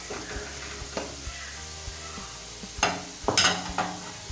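Taro root (arvi) frying in a pan while being stirred, with steady soft sizzling and several louder scraping stirs clustered toward the end, close up and without voices.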